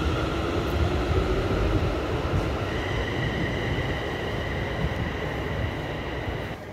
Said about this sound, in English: the train approaching now is 380-102, terminating here from Glasgow Central